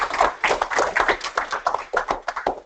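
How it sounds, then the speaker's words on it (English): An audience at a Transverse Myelitis Day event in Brisbane gives a round of applause, a dense, steady burst of many hands clapping that stays loud for the whole stretch with no talking over it. "a round of applause"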